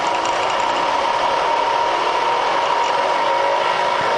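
Bridgeport milling machine spindle running at about 1,000 RPM, a loud, steady mechanical whir with a constant whining tone, heard close up and alone without talk.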